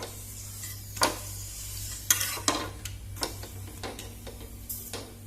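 Papad frying in a pan, a quiet sizzle broken by a few sharp crackles and clinks of the utensil against the pan, with no talk.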